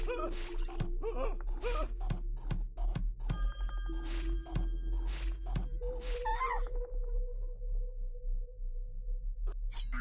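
Video game telephone ringing in Slayaway Camp, a series of short repeated electronic ring bursts over a steady game background hum, with sharp clicky effects in between and the ringing fading out midway.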